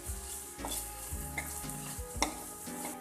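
Spices such as red chili powder being stirred in a sizzling pan with onions and tomatoes, with rhythmic scraping strokes about every half second over a constant frying hiss.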